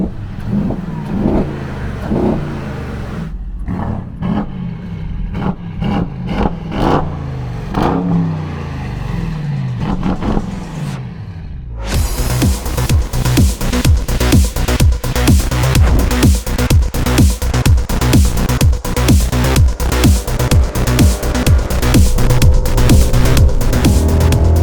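A 900 HP Brabus GLE 63, built on a Mercedes-AMG GLE 63 S Coupe with a 4.5-litre V8, bigger turbos and a different exhaust, idles and blips, then breaks into loud, rapid, aggressive revving close by.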